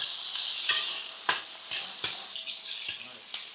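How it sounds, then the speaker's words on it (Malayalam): Chili peppers sizzling in hot oil while a large batch of grape, pineapple and chili pickle is cooked for 200 people, a bright hissing fry broken by periodic stirring scrapes and soft pops, close up. "മുളക് പൊട്ടുണ്ട്. പൊട്ടണേ മുളക് പൊട്ട്."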